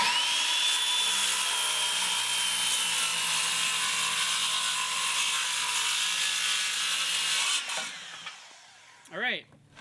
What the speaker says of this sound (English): Now I'm gonna go ahead and rip a line on it this way and see how we do.